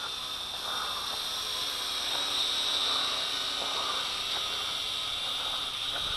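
A Cheerson CX-33S FPV drone hovering as its throttle eases down, a steady thin high-pitched propeller whine that is faint and continuous, with no voices.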